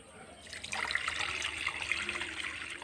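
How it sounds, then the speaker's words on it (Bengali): A bowl of water is poured into a wok for semolina roti dough, a steady close splashing and trickling pour that runs for a few seconds without talk. "প্রথমে আমি 1 বাটি জল দিয়ে দেব কড়াতে।"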